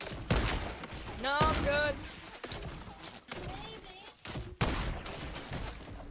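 Rapid bursts of gunfire from a squad-based shooter video game crackle in quick, uneven volleys, mixed with players talking over one another.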